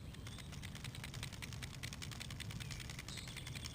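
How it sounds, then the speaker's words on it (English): A jointed S-swimming big-game swimbait lure with no rattles clacks as its segments knock together, a rapid series of small, sharp, quiet clicks close by with no speech. "when you're fishing it, the joints clack together."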